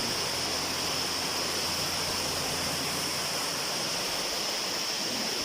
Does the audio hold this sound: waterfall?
yes